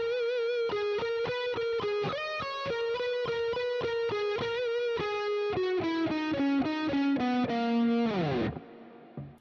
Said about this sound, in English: make sure you have a little bit of delay and reverb for your leads